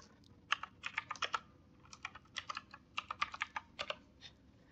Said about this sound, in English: let me just type quickly